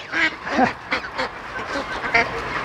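Ducks and geese calling in a poultry yard, a close cluster of quacks and honks overlapping in irregular bursts.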